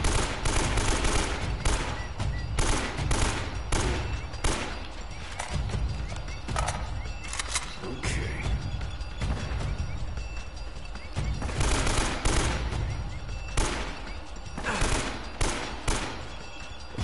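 Repeated gunfire in the action game Uncharted: Drake's Fortune, loud close shots in irregular clusters over a noisy combat mix, with horse-like hoofbeat textures and occasional faint talk.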